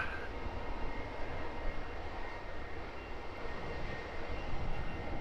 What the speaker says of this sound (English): Another Wizz Air arrival